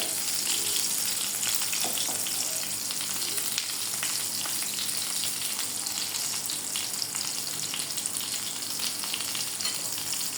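Pointed gourds (potol) stuffed with meat filling fry in hot oil, a loud, even crackling sizzle that runs unbroken for the whole stretch with small pops scattered through, close up and with no talking.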